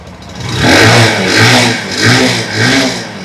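A used motorcycle for sale revs its engine loud and close, rising and falling in three distinct swells over a steady idle, with no talking.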